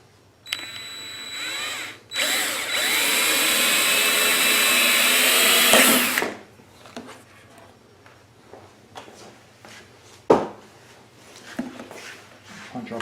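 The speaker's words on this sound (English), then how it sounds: "now we're going to take a drill, and I'm going to use a 1/4-inch drill bit as a starter" A power drill fitted with a 1/4-inch bit bores a starter pilot hole while a trailer inverter generator extended-run fuel kit is being installed, a loud steady whine lasting about four seconds, followed by quieter handling clatter and a sharp knock.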